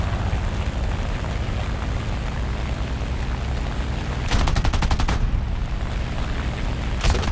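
Guns of a CR.32 quater biplane firing in War Thunder: a rapid, evenly pulsed burst of about a second rises above the constant loud engine drone, then a second short burst starts at the very end.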